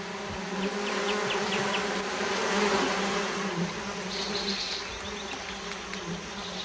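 Uruçu native stingless bees buzzing around a wooden nest box, a steady close drone of many wings with brief higher whines of individual bees passing, continuous and alone.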